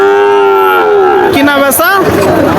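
A cow at a village cattle market for heifer calves lets out one loud, close, drawn-out moo that breaks into a rougher, wavering end.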